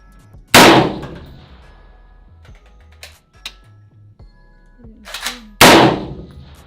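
A rifle shot from an SPR rifle at a 500-yard steel target: two sharp, loud reports about five seconds apart, with faint clicks of handling and soft movement between them and no talking.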